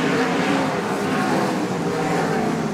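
Race car engine at a circuit race start in a wings-class feature event, roaring loud and dense throughout as the cars accelerate hard, a continuous near, heavy engine drone.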